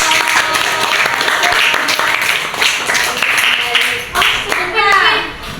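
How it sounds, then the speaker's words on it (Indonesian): A classroom of fifth-grade pupils claps in applause during a mathematics lesson on angles. The clapping is loud and sustained, with children's voices and chatter mixed in. "Beri aplaus."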